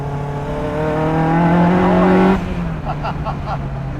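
A Caterham CSR engine revs hard and climbs in pitch, roaring loudly up close, then drops off with crackling exhaust pops as it shifts.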